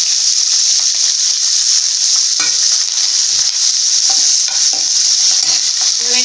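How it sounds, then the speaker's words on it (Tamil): Onions frying in a pan with dried red chillies and curry leaves, a loud continuous close sizzle with occasional stirring clatter. "இந்த வெங்காயம் வதங்கட்டும்."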